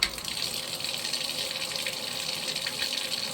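Hot water runs steadily from a tap to soak a pillow for laundry cleaning, a constant near gushing hiss with no talking.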